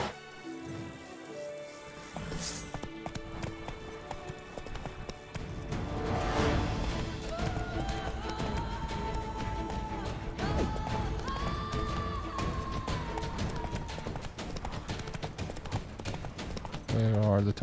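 Roach, Geralt's horse in The Witcher 3: Wild Hunt, gallops at a rhythmic clip-clop under game music and sound effects, and a voice talks over the hoofbeats.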